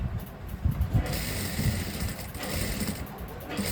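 An F6 sewing machine stitches a blouse's puff sleeve, giving a close mechanical whirring with brief rattling bursts and pauses in between.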